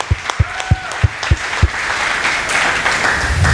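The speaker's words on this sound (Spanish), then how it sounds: "Dele una ofrenda de aplausos al Rey." A church congregation applauds. A few loud, evenly spaced claps come first, then they swell into a continuous crowd of clapping under a faint sustained tone.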